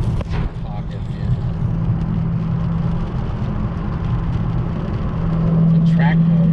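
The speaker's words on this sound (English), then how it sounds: "I kind of like the way the car drives in track mode better than anything else now" A car driving along a bumpy road in track mode, a steady low engine drone and road rumble continuous throughout, fairly close, with a slight rise near the end.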